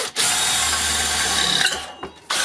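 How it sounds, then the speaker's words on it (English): A power drill boring a pilot hole into a mini beer keg, a steady loud high-pitched whine running continuously for about two seconds before stopping. "I'm going to drill a pilot hole."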